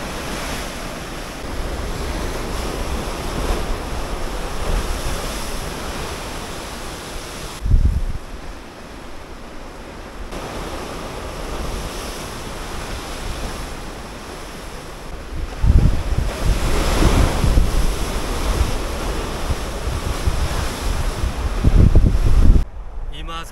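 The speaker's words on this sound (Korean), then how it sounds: "파도 좀만 높으면 사람 삼키겠는데요?" Waves crash and surge along the rocky coast of Busan on the Haeparang trail, a steady roar with louder breaking bursts near 8, 16 and 22 seconds, mixed with wind buffeting the microphone.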